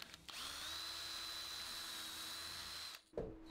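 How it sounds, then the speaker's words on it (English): Power drill boring countersunk pilot holes in wood, a steady high whine held for nearly three seconds before winding down and stopping, close and loud. "Whilst I have the drill out, I do a series of countersunk pilot holes around the outside."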